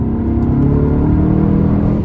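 Volkswagen MK7 GTI accelerating, a steady loud engine rumble with a rising drone held throughout, close and continuous with no talk.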